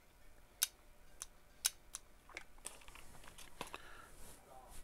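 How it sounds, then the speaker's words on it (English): Sharp, close clicks from a Honda transmission solenoid energized on the bench, a handful of irregular snaps followed by softer small clatter, quiet overall with no speech. "And you can hear the clicking on this solenoid."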